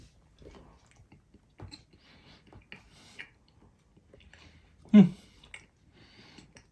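Someone chews a low-carb chocolate chip pudding cookie close up, with soft crunchy bites and one louder bite partway through.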